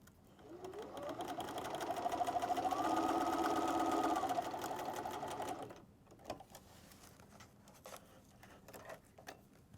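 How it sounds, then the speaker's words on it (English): A sewing machine stitches Velcro onto a quilted wall calendar in a steady, close whirring run for several seconds, then stops, followed by faint clicks and handling noises. "Sew from end all the way across to the other end and then repeat on the bottom."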